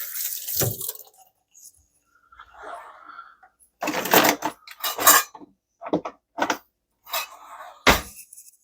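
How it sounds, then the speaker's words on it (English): Eggs whisked in a bowl for an egg wash come through as short, sharp bursts of rapid clinking strokes, separated by quiet pauses, close and fairly loud. "We'll just whisk these eggs right up."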